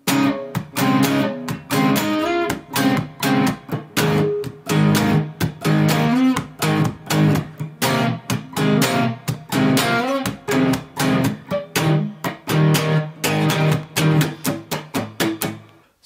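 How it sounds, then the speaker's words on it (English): Distorted electric guitar strums the chords of a song in a steady rhythmic pattern, loud and close with crisp palm-muted chops and ringing chords, no talking. "And then the distorted guitar comes in and it sounds like this."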